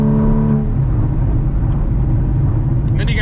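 A Porsche Cayman S 981 with a boxer engine roars loudly through a steady rev, the note holding strong throughout, with a brief higher whine near the end.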